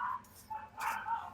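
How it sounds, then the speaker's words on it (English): A dog barks repeatedly outside at a distance, a few sharp yaps in short bursts with pauses between them, moderately loud and with no talking over it. "some dog outside is going crazy."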